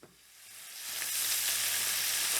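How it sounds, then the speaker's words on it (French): Loud, steady sizzling of crustacean carcasses searing in hot olive oil in a saucepan, building quickly from a quiet start into a continuous crackling hiss. "Il faut vraiment saisir les carcasses."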